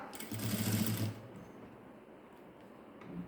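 A sewing machine stitches a blouse in a quick, steady whirring run for about a second, then stops, leaving quiet room tone.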